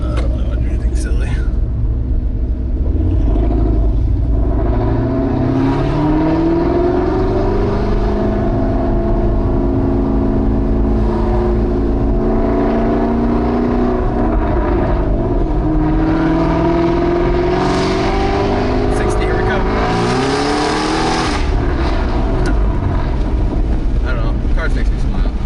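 A Ford GT500's engine roars and climbs through the gears, loud and sustained with rising then dropping pitch at each shift, heard from inside the car with people talking over it.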